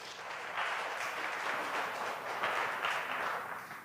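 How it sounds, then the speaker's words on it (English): Audience applause for a poet at a women's poetry festival, a steady broadband wash of many hands clapping that holds for several seconds at moderate distance, with no talk over it. "Big round of applause to Ruchi."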